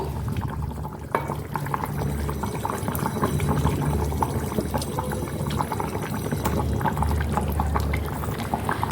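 Fried katla fish goes into a boiling curry of potato and pointed gourd in a pot, making a close, continuous bubbling and sizzling with small splashes throughout.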